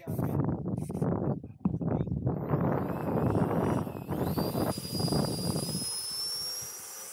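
A high-pitched whine from an FMS Rafale RC jet's 64mm electric ducted fan on a 4S battery rises and sustains outdoors over rumbling wind and background voices, climbing in pitch as it speeds up.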